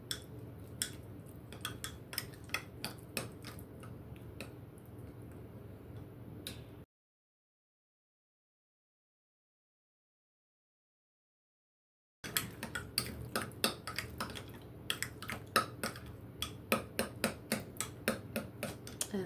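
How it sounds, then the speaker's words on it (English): A spoon stirs a breakfast mix in a bowl, with rapid close clinks and taps against the bowl in two stretches broken by a silent gap, and no voices. "I just like to stir this up a little bit"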